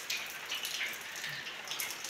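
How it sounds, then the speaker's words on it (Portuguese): Rain falls in a soft, even hiss of scattered drops with a faint watery patter, quiet and brief, with no voices. "a chuva caiu, ó"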